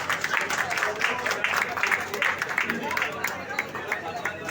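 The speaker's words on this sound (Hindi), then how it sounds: "जोरदार तालियां।" Loud, steady applause from an audience at a Hindi-language gathering honouring workers such as a carpenter, dense clapping that holds for several seconds with a faint murmur of crowd noise beneath.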